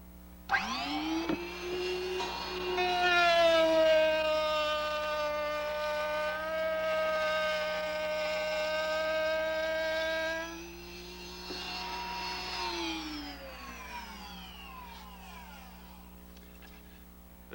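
A power tool cuts a quarter-inch tongue along the edge of a wooden shelf. The loud, high whine rises sharply, holds steady for about ten seconds, then dips, picks back up and winds down.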